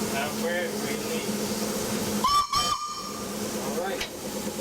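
A steam locomotive on a narrow gauge heritage railway gives a short whistle blast midway, over steady hiss and engine rumble.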